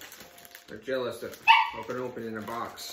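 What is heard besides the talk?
dogs barking in the background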